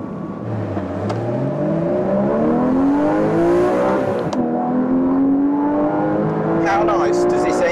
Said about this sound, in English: How nice does this engine sound?